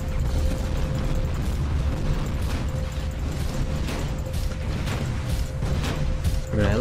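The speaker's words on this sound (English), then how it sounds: "Too many explosions." Continuous dense rumble of explosions and gunfire in the bullet-hell shooter Tower of Guns, with sharp bursts punching through a steady roar and a sustained electronic tone running beneath.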